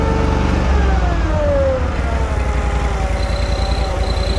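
The engine of a 61-inch Snapper Z Rider Pro Cruiser commercial zero-turn riding mower drops from a higher rev to a lower, steady idle, a loud continuous drone close by with no speech.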